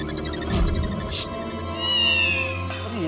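A stray cat meows several times indoors near a sofa, drawn-out wailing calls close and clear against a steady low musical bed, with no talking.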